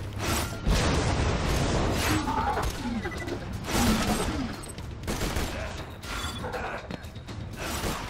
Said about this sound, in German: Die Sniper schießt einfach 3 Schuss auf einmal.